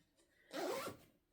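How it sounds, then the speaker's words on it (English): A zipper slides once along a handmade makeup bag, a quick close rasp lasting about half a second, preceded and followed by quiet handling. "scoot the zipper back about halfway, maybe 3/4, because we will also eventually need to get into the zipper"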